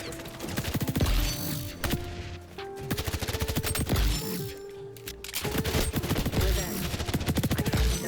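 Rapid automatic gunfire from a weapon in the shooter game XDefiant, loud bursts of fast repeated shots with brief pauses between strings, close and dominant throughout.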